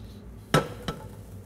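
Two quick soft thuds as apple pieces drop into a sprayed 13 by 9 inch baking pan, close and brief against a quiet kitchen background.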